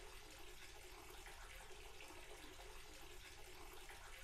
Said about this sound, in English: I thought the water was running.